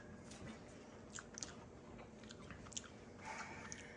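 Someone bites into and chews a piece of ripe, still-crunchy pear, producing quiet, close crunching and chewing noises with a few sharper crisp bites over soft background hiss.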